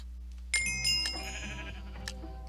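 Sheep bleating in the Minecraft game on a Mineplex server, a few short nasal bleats in close succession over a quiet background hum.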